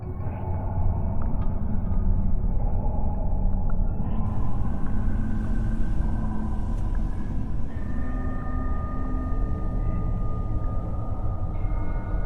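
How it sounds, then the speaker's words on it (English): A vehicle rolls alone through a foggy rail yard at 6 a.m., making a loud, steady low rumble with a droning engine hum and faint tonal whines over it. "this next video is of some dude driving through a rail yard at 6 a.m., alone"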